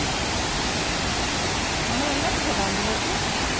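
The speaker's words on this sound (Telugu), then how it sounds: "చూడండి, రియల్ సౌండ్స్ అంతా కూడా, వాటర్ ఫాల్ సౌండ్స్ అంతా కూడా." A waterfall in Maredumilli forest roars loud and close as a dense, unbroken broadband rush that fills the whole stretch, with a voice faintly audible beneath it.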